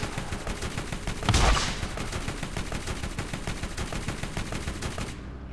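Rapid, steady automatic gunfire rattles on without pause in the Borderlands video game, with one louder blast standing out partway through and no talk over it.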